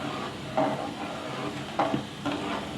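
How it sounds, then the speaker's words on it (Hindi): A spoon stirs sugar into thick, simmering kheer, giving a few soft scraping swirls against the pot under a low cooking hiss, with no voices. "और अब हम इसको मिक्स करेंगे, चीनी को हिलाएंगे"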